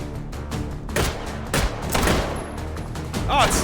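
Gunfire with new ammunition in the VR shooting game H3VR: several loud shots in quick bursts with booming echoes, close by, over a faint background.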